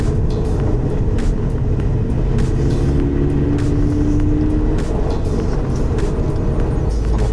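A Toyota 86 climbing a mountain pass on a two-lane road, heard from inside as a loud, steady engine drone and road rumble with a brief rising tone partway through.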